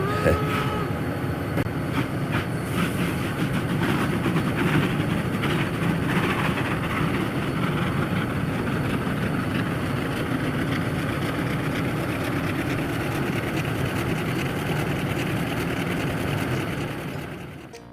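A passenger train called the Mountaineer rumbles steadily as it pulls out, a loud, continuous rolling and engine drone that holds for most of the stretch before fading off at the very end.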